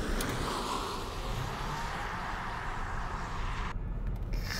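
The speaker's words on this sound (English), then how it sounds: "I see launch mode activated, and now I'm going to let go of the brake pedal" A 2023 Lucid Air Touring electric car surges forward in launch mode, a steady broadband rush of road and wind noise filling the cabin, with a sudden drop in the high hiss near the end.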